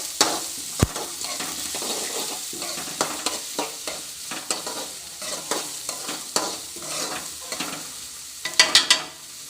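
Potato curry ingredients fry in a pan while a utensil scrapes and stirs in a steady, repeated rhythm over a constant close sizzle, with no talking.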